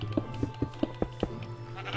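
Sheep in the Minecraft video game bleat in a quick regular series of short, close bleats, about six in a row over a steady low background hum.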